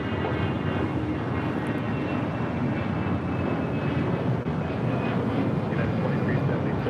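Airliner landing on runway 25 left at LAX, a steady loud engine roar that holds throughout with no voices over it.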